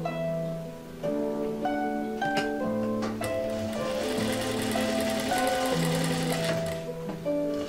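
A sewing machine runs steadily, stitching a patchwork rectangle onto a heart quilt block, its motor whirring close and continuous with short changes in pace and no voices.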